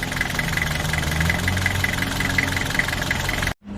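A Nissan Frontier with a TD27 diesel engine runs after a cylinder head replacement, idling with a steady, close, loud knocking rumble that drops out abruptly near the end.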